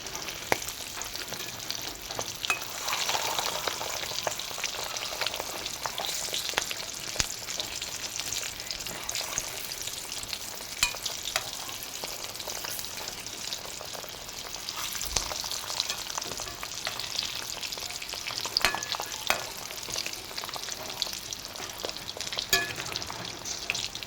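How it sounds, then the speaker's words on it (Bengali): Slit boiled eggs frying in hot oil, a continuous loud crackling sizzle with occasional pops and stirring, steady and close throughout. "তো আমার ডিম ভাজাটা হয়ে গেছে"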